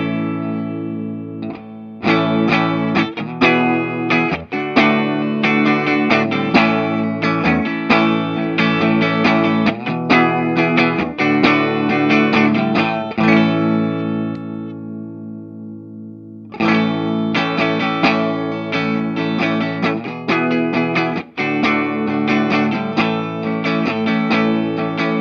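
Electric guitar strums big chords through a Pettyjohn Electronics Chime preamp/overdrive pedal with subtle drive, loud and sustained, with a brief pause before the chords resume; no talking.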